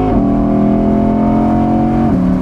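An Audi R8 pulls along a de-restricted German Autobahn with a steady, loud engine drone and strong harmonics, holding pitch before easing slightly near the end, heard from inside with no talking.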